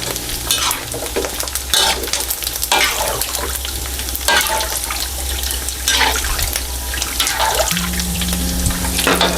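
Pork belly frying in hot oil in a pan while being stirred constantly, a steady close sizzle broken by repeated scraping strokes of the utensil, with no talking.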